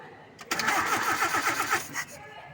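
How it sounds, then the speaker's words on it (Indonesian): Car engine cranked by the starter for about two seconds during a compression test on a conventional tune-up, a rapid rhythmic churning whir that starts abruptly and stops, heard close up without speech. "Setelah itu kita nyalakan mesin selama 3 detik."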